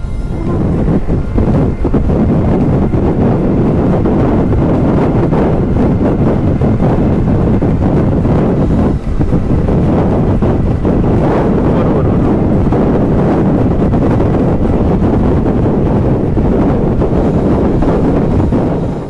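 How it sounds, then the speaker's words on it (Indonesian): Loud, steady wind roaring and buffeting against the microphone while riding a motorcycle on a toll road, without a break, drowning out everything else. "anginnya itu benar-benar kenceng banget sampai motor kita kok geser-geser nih"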